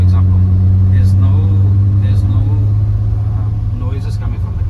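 BMW E30 car cruising on the road at about 70, with a steady low engine and road drone running continuously while someone talks over it.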